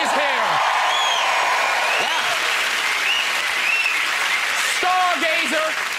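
A television talk show studio audience applauds loudly and continuously, with cheers and whoops rising over the sustained clapping throughout.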